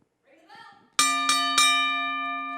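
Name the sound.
wrestling match bell ringing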